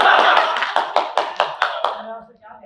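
An audience at a stage play breaks into applause that settles into a run of evenly spaced rhythmic claps, then fades out, close and fairly loud.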